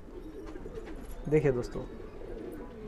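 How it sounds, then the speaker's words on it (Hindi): Desi high flyer pigeons give one brief, soft coo partway through, faint against the low murmur of a loft, with someone talking around it. "देसी बहुत ही अच्छी क्वालिटी के कबूतर"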